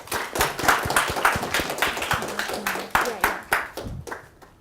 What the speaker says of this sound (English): So please join me in welcoming Dr. Dalal Rahaja.